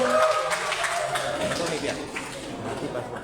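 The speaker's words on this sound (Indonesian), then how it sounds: "tepuk tangan dulu untuk" Audience applause at a school sports opening ceremony, a steady wash of crowd clapping mixed with chatter, heard across the whole moment at moderate distance.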